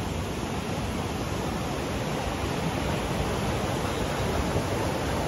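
Toorongo Falls, a forest waterfall near Melbourne, gives off a steady, full rush of falling water that stays even and close the whole time, with no voices.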